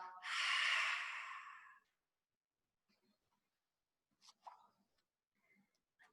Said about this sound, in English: if you think about fogging a mirror, you would hold the mirror in front of your face, in front of your hand, and you would exhale